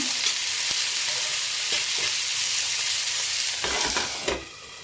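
Andhra-style pachadi sizzling and frying in a pan covered with a plate, a steady hiss with occasional stirring clicks and scrapes, close and moderately loud with no talk.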